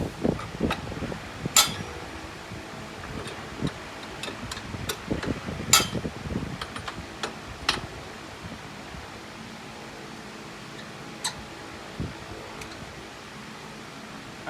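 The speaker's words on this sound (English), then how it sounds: "I take the outer nut off first" A wrench works the outer nut on the bottom roller of a Keene's RC46DR double roller rock crusher, producing scattered metallic clicks, clinks and taps close by, busiest early on and thinning out over a quiet background.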